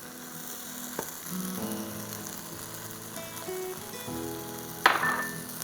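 Chopped green chillies drop into a pan and fry, a continuous sizzle with scattered stirring clicks and a louder burst near the end, close and without talk.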